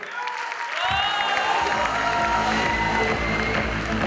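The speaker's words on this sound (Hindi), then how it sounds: "एक बार जोरदार तालियां सर के लिए, जोरदार तालियां।" Loud audience applause at a business opportunity meeting, rising sharply after a second and holding as dense, sustained clapping with music tones running over it.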